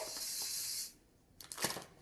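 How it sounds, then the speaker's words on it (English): A hairspray can gives one sustained hiss lasting nearly a second as it is sprayed over short hair, followed by soft rustling and handling of the hair, with no speech. "So then I give it a good spray."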